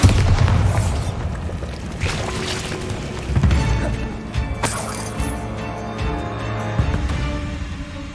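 A Bombarda spell detonates in the video game Hogwarts Legacy, with deep booming blasts and rumbling crashes that come in a few heavy waves over a continuous low game soundscape.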